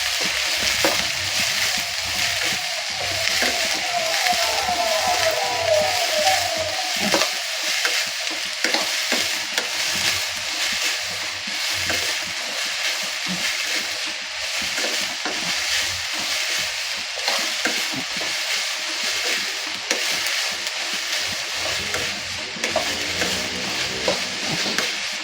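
Chopped onions frying with chilies and curry leaves in a pan, a steady loud sizzle with stirring scrapes running throughout, no voices.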